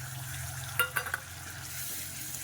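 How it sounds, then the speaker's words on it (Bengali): Ginger-garlic paste and onions sauté in a pan with a soft, quiet sizzle, broken by a few quick scrapes and clinks of a spoon against the pan. "একটু ভালো করে পেঁয়াজের সাথে একটু কষিয়ে নেব"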